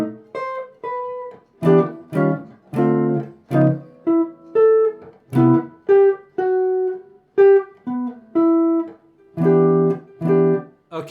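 Guitar plays a beginner chord-melody arrangement of a song's C section, with loud, clear chords struck in a syncopated Charleston rhythm and melody notes ringing between them, with no talking.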